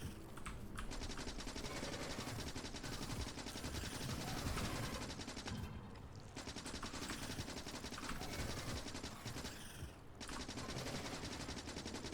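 Rapid, continuous gunfire rattles on through the Factorio video game as enemies and worms are shot with bullets, dense and steady with only brief dips, alone without speech.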